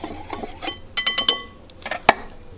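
A utensil scrapes and clinks against a bowl while arrowroot flour is mixed, giving soft scraping followed by a quick run of sharp metallic taps and a final bright clink, fairly quiet and with no voices.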